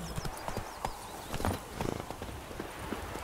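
A horse gallops in The Witcher 3 with rapid, close clip-clop hoofbeats running under ambient game sound, with a faint vocal sound mixed in.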